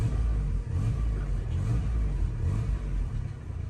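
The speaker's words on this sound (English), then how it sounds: "Let's give it a little rev." A 1997 Toyota Camry engine with idle trouble and a suspect spark plug revs steadily, a loud, continuous low rumble with slight swells in pitch throughout, and no voices over it.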